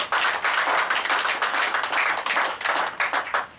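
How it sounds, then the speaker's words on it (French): A room of people claps for the president at an anniversary celebration, loud close hand claps in uneven bursts and swells that rise and dip but never stop. "Applaudissez pour le président, s'il vous plaît"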